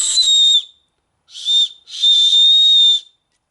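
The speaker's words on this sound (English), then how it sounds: "I have a whistle here." Three shrill blasts from a small survival whistle, close and piercing, a short blast, a brief one, then a longer sustained tone.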